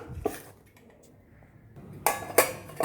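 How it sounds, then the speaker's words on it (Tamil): A spoon clinks and scrapes against a metal bowl in short bursts as ragi dosa batter is mixed with curry leaves and broken red chillies, with a quiet pause between the strokes. "நெக்ஸ்ட் இதை நல்லா மிக்ஸ் பண்ணிக்கலாம்"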